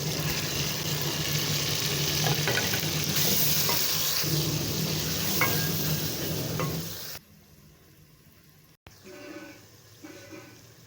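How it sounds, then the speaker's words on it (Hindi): Tomatoes drop into a hot pan and are stirred, producing loud, dense sizzling for about seven seconds. The frying then falls abruptly to a faint crackle, with a few scrapes afterward. "अब डालने लगा टमाटर।"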